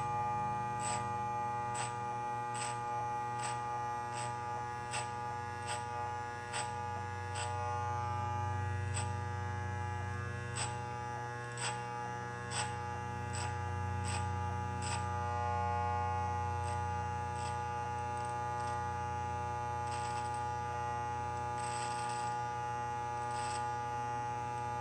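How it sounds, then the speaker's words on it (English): An electric hair clipper buzzes steadily through hair during a self-administered undercut and mohawk haircut, a continuous close motor hum with faint rhythmic ticking pulses running throughout, no voices. "as soon as I hear it cutting the hair, that's when I start pulling out the clipper"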